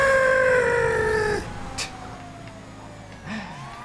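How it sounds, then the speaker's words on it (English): Police car siren in the video game GTA FiveM, a loud wailing tone that sweeps downward and cuts off, followed by brief bursts and a fainter rising yelp, with engine hum beneath and no talking. "This has sirens too. I'll put those on for you."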